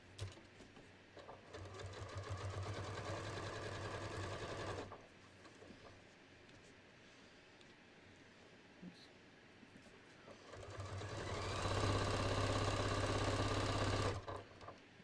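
Sewing machine stitching a beach tote bag back down in two bursts, a steady close motor whir in each, with a quiet pause between them.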